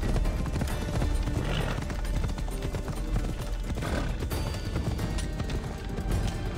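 Horse hooves galloping in the video game Assassin's Creed Odyssey, a continuous rapid clatter of hoofbeats mixed into dense, loud game sound with no pauses.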